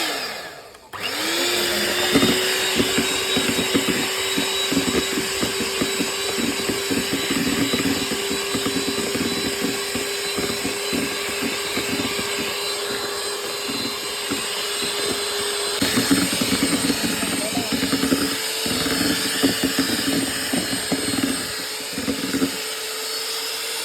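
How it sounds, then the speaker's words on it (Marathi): Electric mixing machine whipping cream for a homemade pineapple-flavour cake, a steady close motor whir that holds an even pitch for over twenty seconds, with no talking. "क्रीम पेटाच्या मशीन"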